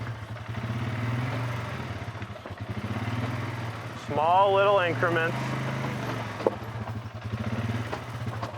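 A Polaris ATV crawling slowly over rocks on a trail, its engine putting along in a low uneven rumble with a short rising rev midway, while someone talks over it.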